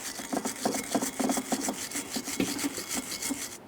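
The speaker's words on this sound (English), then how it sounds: "To clean this, you can use a wire brush or some sandpaper." Wire brush scrubs a Toyota Sienna suspension knuckle bracket where caliper parts were removed, a close rhythmic scraping in quick back-and-forth strokes.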